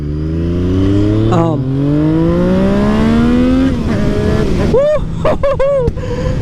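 Aprilia Tuono V4 1100 Factory motorcycle engine pulling hard, its pitch climbing in a long sweep, followed by a couple of quick throttle blips and exhaust pops at the end, loud and close, with a voice talking over it.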